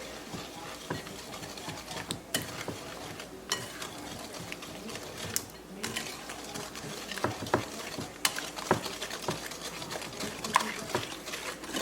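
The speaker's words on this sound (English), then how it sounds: "Alright, so just whisk this really good." Egg yolks being whisked with white sugar in a bowl for pecan pie bars, producing rapid, rhythmic clicking and tapping of a whisk against the bowl, close and continuous.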